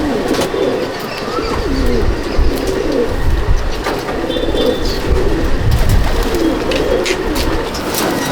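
High-flying Gazra Rampuri pigeons coo in a loft in Laxmikantapur. Low, throaty cooing carries on continuously and close at high volume, over a background of rustling and ambient noise.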